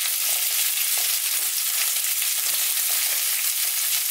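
Continuous crackling sizzle of menemen frying in a small pan, with soft scraping and stirring noises scattered throughout.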